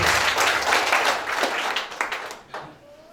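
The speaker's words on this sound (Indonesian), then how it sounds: "kita berikan tepuk tangan Bapak Ibu" Applause at a wedding ceremony in Lintongnihuta, a fairly loud burst of clapping from the guests that thins out toward the end, with a faint voice near the close.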